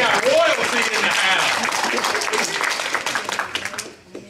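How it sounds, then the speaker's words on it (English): Warm crowd applause greets Miss Morgan, a pageant winner standing up during a church children's moment, steady and full for about three seconds before tapering into scattered claps, with voices mixed in. "Let's give you a round of applause."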